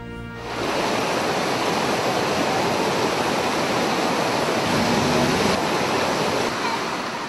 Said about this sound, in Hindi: शहर के क्वारी रोड, जिना रोड, इमदाद चौक और दीगर इलाकों में बारिश का पानी दिन भर सड़कों पर बहता रहा